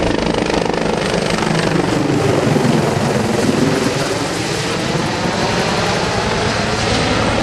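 A Marine Reserve CH-53E heavy helicopter takes off, roaring loud and close, its rotor thudding under a dense, steady engine whine that fills the whole stretch without a break.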